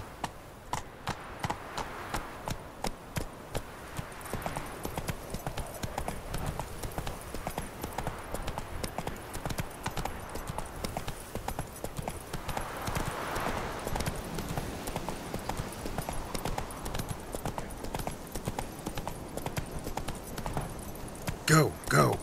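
Horse Roach's hooves clip-clopping in The Witcher 3: Wild Hunt on PS4 while travelling toward Novigrad, a long, steady, even rhythm of close hoof beats with speech heard over it at times.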